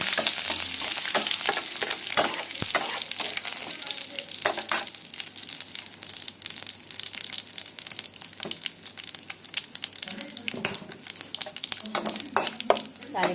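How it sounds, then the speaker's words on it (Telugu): Garlic cloves and curry leaves frying in hot tempering oil for a tomato coconut chutney, a steady close sizzle with crackles and pops throughout, and no talking. "రెండు వెల్లుల్లిపాయ రెబ్బలు వేగుతున్నాయి చూడండి"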